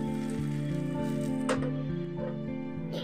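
Kashmiri red chili powder and cumin frying in hot oil for khichuri, a soft crackling sizzle with scattered pops and spits, faint and close, over a steady low background hum.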